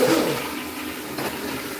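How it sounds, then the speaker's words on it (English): A toilet flushes with a steady rushing swirl of water, fairly close and loud, filling the whole moment with no talking. "There goes the telltale sign of a toilet flushing."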